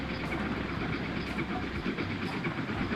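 A train passes in the rail game Transport Fever 2, a steady rumbling rail roll with faint rhythmic clicks, partly under a talking voice.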